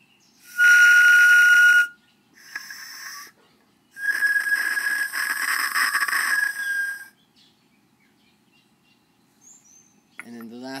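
A rounder, more spherical handmade ceramic ocarina plays several sustained whistly notes in separate phrases, clear and fairly close, with brief pauses between and a short noise at the end.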